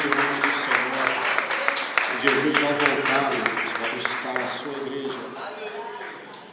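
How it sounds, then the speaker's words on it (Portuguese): Church congregation applauding Jesus during a Portuguese-language worship service, a steady patter of clapping mixed with voices and murmured praise throughout. "Aplauda a Jesus por esta palavra."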